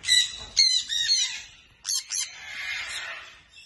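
Eclectus parrots in a flight cage of mixed parrot species give loud, harsh squawks in several close bursts, followed by a raspy drawn-out call.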